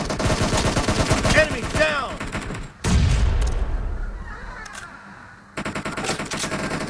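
Rapid automatic gunfire in the mobile game PUBG Mobile, dense bursts of shots followed by a heavy boom and a fading rumble, then more sustained firing, loud and close with a little voice chatter.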